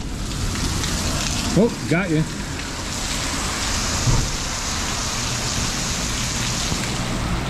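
Heavy, constant rain pouring during a storm with hail earlier, a dense close hiss of drops drumming on surfaces, loud and unbroken, while a voice briefly speaks over it.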